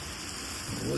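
Heavy thunderstorm rain pours down in a brief, steady, dense hiss of falling water that stays loud and unbroken.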